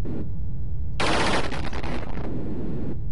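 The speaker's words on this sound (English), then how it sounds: "Sometimes you just gotta bust out a smart bomb." A smart bomb detonating in the arcade shooter Defender, a sudden loud burst of crackling noise lasting over a second and then fading back into the steady game sound.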